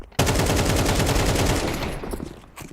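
Rapid, continuous automatic gunfire in a Counter-Strike esports match, a dense rattling burst that starts abruptly and holds loud before tapering near the end.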